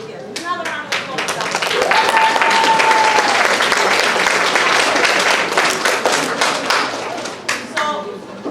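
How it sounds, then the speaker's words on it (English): A recital audience at a spring children's music program breaks into loud, sustained applause, dense clapping swelling after a brief spoken lead-in and tapering off near the end, with some voices mixed in. "So can we get another round of applause?"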